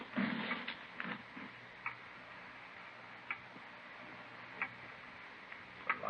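Loud, steady mechanical ticking of a clock in a quiet room, sharp regular ticks spaced about a second or more apart, with faint background movement and no talk.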